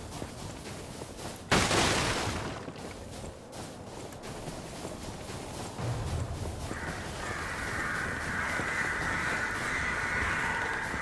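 Crows caw harshly and then flutter off, a loud burst of wingbeats near the start followed by scattered calls over a steady ambient bed in the video game Lies of P.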